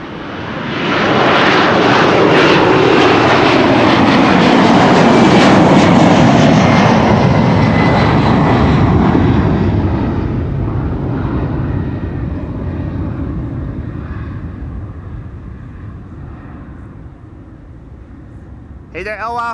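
A Boeing 767 jet arriving at Amsterdam Schiphol Airport roars in loud and close, swelling to a peak then fading into a long rumbling decay.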